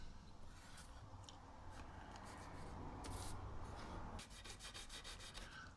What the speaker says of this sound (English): everything gets a good hand sand here